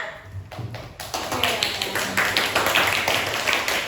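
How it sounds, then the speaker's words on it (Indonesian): Lively clapping from students in a classroom for the best presenter, beginning after a brief moment of a voice and a few taps, then a dense, fast patter of many hands that holds steady and fairly loud. "coba beri tepuk tangan yang meriah ya"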